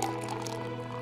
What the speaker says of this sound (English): I guess I should pour myself a glass.